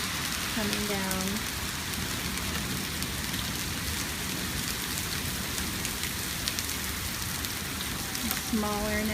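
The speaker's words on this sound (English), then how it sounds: "There's still hail coming down." Steady hail coming down outside by a garage and yard, a constant dense drumming throughout, with brief speech at the start and again at the very end.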